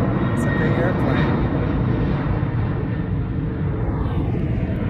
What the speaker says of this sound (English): that's a big one. It's a big airplane.